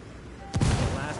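A frag grenade goes off in a video game, one sharp, loud blast that arrives after a quiet moment and decays with a rumbling tail.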